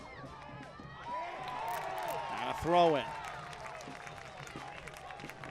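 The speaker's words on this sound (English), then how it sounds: "The crowd here in Lexington is fully engaged." A stadium crowd at a USL League One soccer match in Lexington, a steady murmur that swells briefly into cheering, with a commentator talking over it.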